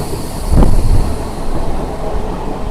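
A Renigunta–Nellore MEMU passenger train rumbles loudly around a curve, with a sharp burst of wheel and carriage noise early on before settling into a steady onboard roar.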